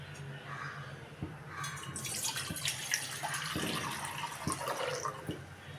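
Tap water runs steadily into a cooking pot, with about 550 ml being filled on a gas stove for spicy instant noodles; the stream is continuous and close, with small splashes and drips.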